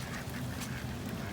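Ducks quack during an outdoor nature walk, their calls blended into a dense, steady wash of outdoor noise, with no talk.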